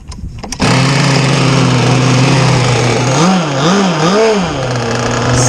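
The small engine of a ZippKits Vbox Cracker Box RC boat fires up abruptly and runs loud and close at a steady high-pitched buzz, then its pitch wobbles up and down several times as the throttle is worked.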